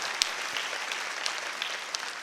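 A church congregation applauds in worship: a broad, continuous wash of many hands clapping at moderate distance, with occasional sharper individual claps standing out, and no talking.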